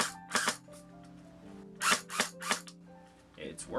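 An elderly airsoft AEG with a weak battery fires several short, sluggish bursts of mechanical clattering with strained motor whine between them, close by, while someone talks in between.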